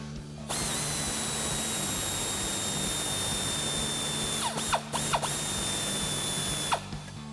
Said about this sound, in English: grab a 10mm swivel socket and extension on our ratchet and go ahead and get that one off first